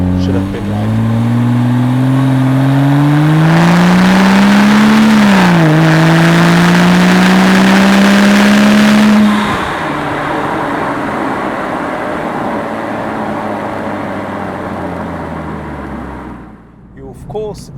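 A Porsche 911 Turbo 997.1 with the Mezger engine and a lighter aftermarket exhaust revs hard and close: its pitch climbs, dips briefly, climbs again, then falls back to a lower drone before fading.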